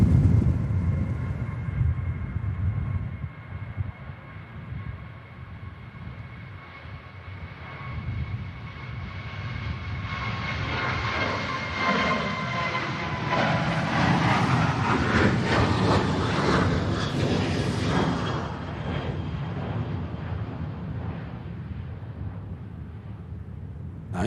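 Airliner, the 2XL, departing Manchester Airport for Madrid in stormy weather, its engine roar swelling to a loud sustained rumble with a rising whine as it climbs away.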